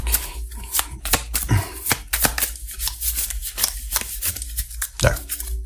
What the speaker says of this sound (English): I need to learn how to shuffle right,